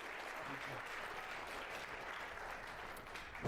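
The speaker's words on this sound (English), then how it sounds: "You give me some applause there" An audience at a talk on psychological breakthroughs gives applause that arrives as a faint, distant, even hiss of many hands, steady throughout and ending in a slight swell.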